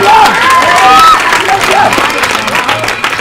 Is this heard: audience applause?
yes